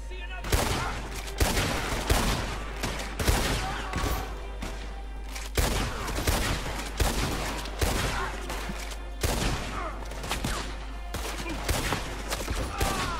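Repeated gunfire from a shotgun and other weapons in the Western video game Red Dead Online, loud dense volleys of booming shots recurring throughout a chaotic firefight, with occasional talk underneath.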